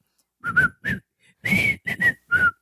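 A person whistles a short tune, a few clear notes in separate phrases with brief pauses between, close and fairly loud.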